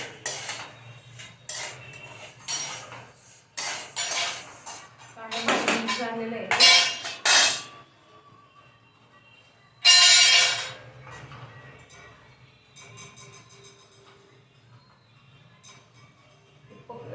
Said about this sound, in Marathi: कढई जड असल्यामुळं पकडीने काही धरता येत नाही म्हणून फडक्याने धरलं